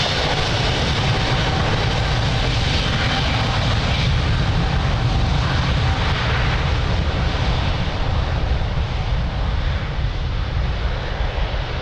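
A jet aircraft takes off from runway 02 at Lisbon Airport, a loud, continuous engine roar that fills the whole stretch and fades slightly toward the end.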